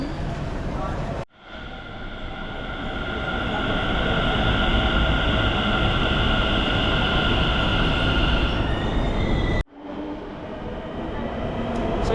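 At a clean, modern train station in New Delhi, India, a train drones loud and close as a steady rumble with a tonal hum, broken by two abrupt cuts.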